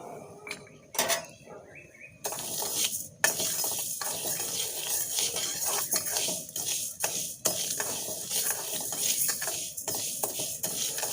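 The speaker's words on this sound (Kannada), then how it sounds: "ನೋಡಿ ಹುರುಳಿ ಎಲ್ಲ ಚೆನ್ನಾಗಿ ಫ್ರೈ ಆಗ್ತಾ ಉಂಟು ನೋಡಿ" Horse gram dry-roasting in a pan, stirred continuously, makes busy rattling and scraping of grains against metal, fairly loud and close, with a few sharp clanks.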